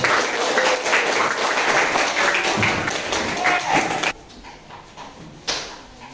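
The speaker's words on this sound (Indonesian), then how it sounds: "Oke, tepuk tangan" Students in a classroom clap their hands together, a lively burst of close, uneven clapping that stops abruptly, leaving quiet room sound with one faint thump.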